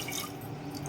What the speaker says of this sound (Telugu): ఇప్పుడు దీనికి నీళ్లు పోసుకోవాలి.